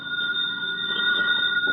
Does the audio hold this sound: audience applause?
no